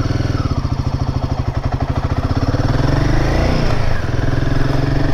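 A Royal Enfield Himalayan 450 motorcycle rides at sunrise in Kerala near Vypin Beach. Its engine is loud and close, thumping in a steady pulsing rhythm at first, then rising into a smoother, stronger drone as it pulls away, with no talking.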